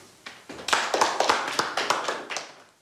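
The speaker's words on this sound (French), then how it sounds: "On l'applaudit." Students in a strict French school classroom applaud a classmate with about ten sharp claps in a steady rhythm, close and clear, before the clapping stops.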